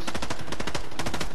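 Rapid automatic gunfire from the Fortnite video game, a dense burst of quick evenly spaced shots firing continuously at close range and high volume.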